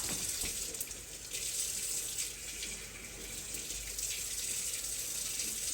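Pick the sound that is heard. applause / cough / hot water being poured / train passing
hot water being poured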